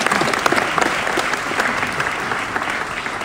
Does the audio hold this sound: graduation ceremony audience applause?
yes